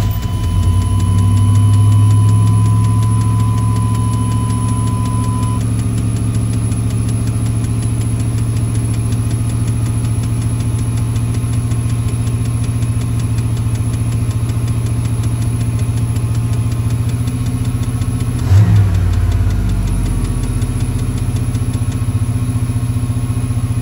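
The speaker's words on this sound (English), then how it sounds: "you'll see it sounds like it's idling about 1800 to 2000 at some times" A 1991 Chevy C1500 pickup truck engine idles steadily at a high, constant hum around 1800 to 2000 rpm, from a faulty idle air control valve, for a long stretch, with a brief clunk near the end; no talking.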